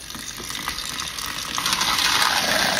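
Water gushes off soaked wild bird seed through a strainer, a close hissing pour that swells louder toward the end.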